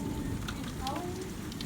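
Heavy rain pours during a severe storm, a steady, dense hiss and patter at moderate, even loudness with no pauses across the short stretch.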